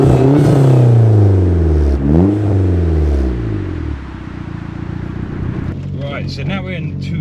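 A Rover 220 Turbo Coupe with around 300 horsepower pulls away and accelerates, its engine climbing through rising revs with gear changes, loud and close from inside the car, with someone speaking near the end.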